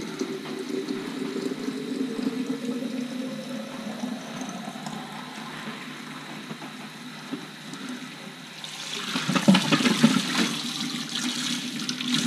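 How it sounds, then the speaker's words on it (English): A glass Chemex coffee maker is filled with cold tap water, a steady close running-water rush that swells louder near the end as the vessel fills. "I fill it up with cold water immediately after, like that."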